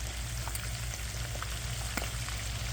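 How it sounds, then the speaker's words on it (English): Prosciutto-wrapped asparagus frying a few at a time in unstrained oil, a steady low sizzle and faint crackle with a constant hum underneath, no voices. "We'll fry them."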